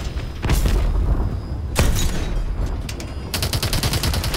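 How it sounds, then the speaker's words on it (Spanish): Rapid bursts of automatic gunfire from the Call of Duty Advanced Warfare video game: three loud volleys of close shots with short gaps between them, the last a fast rattling string of rounds, heard alone. "¡Disparos desde la izquierda!"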